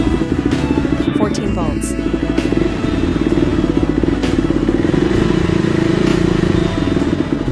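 KTM 390 motorcycle engine running at a steady idle right after starting, following a charging-system repair, loud and close with a fast even chug throughout while a person talks nearby.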